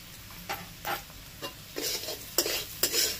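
Mixed fried rice being stirred in a hot pan, a series of close scraping, tossing strokes in quick bursts over a faint sizzle, with no one talking.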